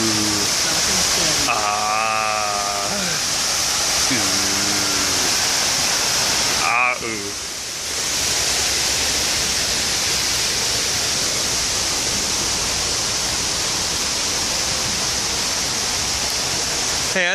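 The indoor waterfall at the Rainforest Cafe in Animal Kingdom gives a constant loud, hissing rush of falling water throughout, while people talk close by over it.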